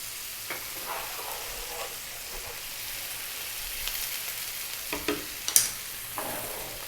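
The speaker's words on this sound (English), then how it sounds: "Now we're going to add our garlic ginger paste." Garlic ginger paste frying in a pan over high heat for lamb bhuna curry, a steady soft sizzle with scattered sharper crackles and a few stirring scrapes, close and fairly quiet, with no talking.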